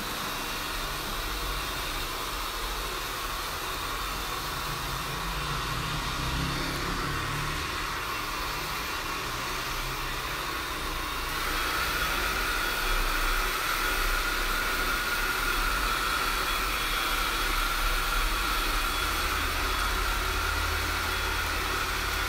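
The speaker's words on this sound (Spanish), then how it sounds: "¿estás pasando el secador?" A handheld hair dryer blows steadily in a salon during balayage hair colouring, a close, continuous airy roar that grows louder and gains a thin whine about halfway through.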